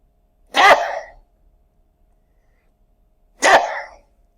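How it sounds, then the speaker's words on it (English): Two sharp sneezes, close and loud, a few seconds apart with quiet between them. "excuse me, I got a sneeze"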